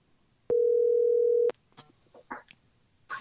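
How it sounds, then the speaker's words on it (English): A single sustained telephone tone on an outgoing call, steady and loud for about a second before it cuts off, followed by faint background sounds. "Okay, it's ringing."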